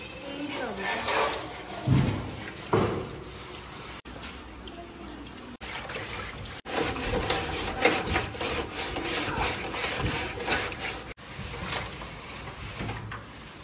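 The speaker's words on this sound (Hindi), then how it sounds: "अब जो इस तरह के दाग नहीं उतरे उनको हल्का सा रगड़ लेते हैं छुरी वगैरह से" A knife scrapes stubborn stains off a bicycle part during cleaning before painting, giving steady close rasping strokes with brief pauses and faint background voices.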